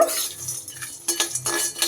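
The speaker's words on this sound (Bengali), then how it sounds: "সেটাই একটু কয়েক সেকেন্ড জাস্ট আবার এখানে নাড়িয়ে চাড়িয়ে নিলাম" Fried peanuts stirred into cabbage in a cooking pan, giving close, loud scraping and clinking of a utensil against the metal in short bursts with a faint sizzle.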